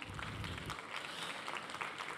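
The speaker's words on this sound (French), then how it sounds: "Et également Alexandre Lac, sous vos applaudissements," Audience applause for a guest being introduced at a French panel discussion on changing consumers, a steady wash of clapping hands throughout, moderately loud with no voices.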